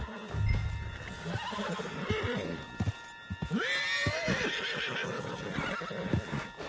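In a video game, a horse whinnies loudly over a bed of clopping hooves and rustling movement, the neigh rising and falling near the middle.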